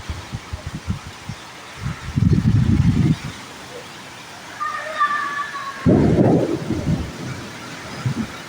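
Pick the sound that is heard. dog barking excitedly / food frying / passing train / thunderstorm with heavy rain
thunderstorm with heavy rain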